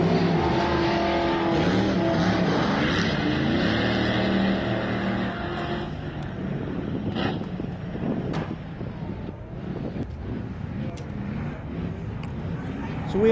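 An off-road vehicle on Nitto tires races through dirt at a MetalCloak Stampede event, a loud engine roar with wind buffeting that fades somewhat mid-run, while an announcer talks over it.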